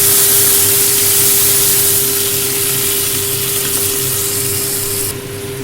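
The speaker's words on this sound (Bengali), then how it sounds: "যখন তেল ছাড়তে শুরু করে দেবে, তখন দিয়ে দেবো জল" Water hits hot oil in a cooking pan and sizzles loudly and steadily, a close, dense hiss with a constant hum underneath that drops slightly near the end.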